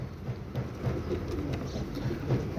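Soft, low coos from domestic pigeons repeat steadily in a calm space, several gentle calls spaced across a couple of seconds, with no voices.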